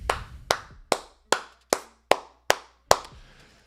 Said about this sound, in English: Clapping it up for Cormani